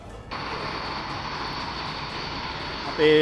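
Mirage 2000 fighter jets pass over a Vayu Shakti 2024 air force firepower display, giving a steady loud roaring rush of engine noise that holds throughout, ending in a louder surge.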